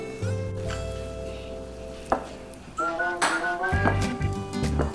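Bacon frying in a pan, a steady close sizzle with clinks of utensils and cookware, a sharp knock partway through and brief music-like tones.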